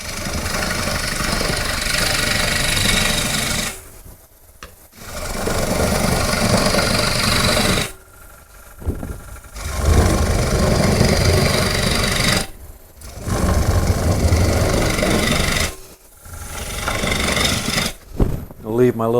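Wood lathe spinning a bowl blank while a gouge makes scraping roughing cuts with its lower edge. Several sustained bursts of rough, vibrating cutting noise are separated by brief near-silent pauses, with a voice talking at times.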